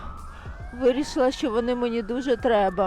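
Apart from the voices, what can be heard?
ambulance siren passing in the street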